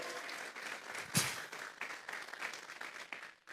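A church congregation bursts into applause, a dense patter of many clapping hands with a brief loud peak near the start, then a steady wash of clapping that fades at the end.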